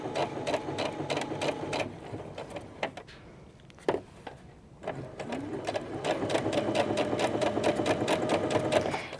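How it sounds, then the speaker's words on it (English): A sewing machine top stitches fabric along a horsehair braid, with a fast, even needle rattle running close and steady, briefly pausing and restarting before settling into a continuous run. "And now I am just top stitching."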